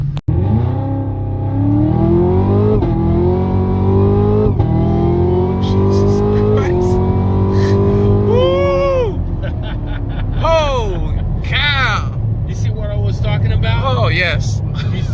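A loud ZL1 engine revs up repeatedly through rising gear pulls, roaring close by, then screeches and whines as tires spin.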